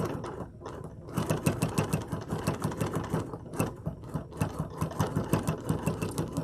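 A domestic sewing machine stitches fabric in a steady rapid rhythm after a brief pause, its needle chatter close and moderately loud with a short slowdown midway, no voices.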